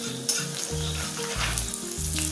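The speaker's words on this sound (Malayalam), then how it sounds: "ഇനി ഇതൊന്ന് ഇളക്കി കൊടുക്കാം കേട്ടോ" Kerala-style beef dry fry stirred in a hot pan, a loud, continuous sizzle with crackling spatters and the rhythmic scrape of a spoon, close up and without any talk.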